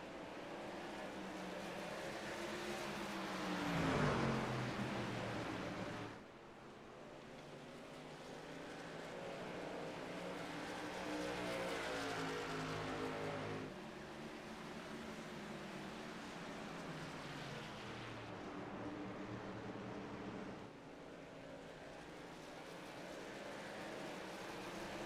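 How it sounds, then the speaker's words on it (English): Race truck engines roar at a Richmond Raceway truck series event, a loud, sustained, droning snarl that swells and drops as trucks pass, with no talk over it. "you can just hear the roar and the power and the bending of these sheet metals and these engines being put on full"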